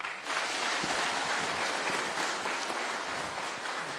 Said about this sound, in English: Kindly let's give our chief guest a better clap.